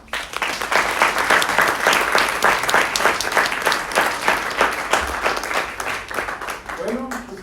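A crowd applauding at a Grito de libertad celebration, sustained rhythmic clapping that fills the space for several seconds before fading, with a voice starting to talk at the very end.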